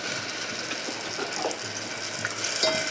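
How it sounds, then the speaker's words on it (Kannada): Ground garlic paste frying in hot oil in a pan while a pasta dish is being made, giving a steady, close, continuous sizzle with occasional scraping and stirring clicks. "ಈ ಥರ ಎಲ್ಲ ಎಣ್ಣೆ ಒಳಗೆ ಫ್ರೈ ಮಾಡ್ಕೊಬೇಕು ಹಸಿ ವಾಸನೆ ಹೋಗೋ ಮಟ್ಟ"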